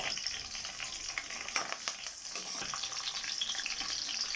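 Green chillies, dried red chillies, bay leaf, curry leaves and spices frying in hot oil for a jackfruit masala curry, a dense close crackling sizzle with popping bursts, continuous throughout with no talk.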